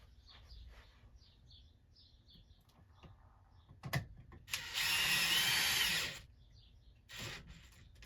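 A power drill drives sheet metal screws into an air conditioner cover, giving a short loud whirring burst of about a second and a half after a couple of sharp clicks, then a brief second spin, with no talking.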